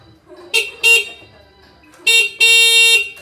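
Several short honks from the horn of an NWOW EMC Golf electric vehicle: two quick beeps, a pause, then two longer blasts, loud and close with no talk.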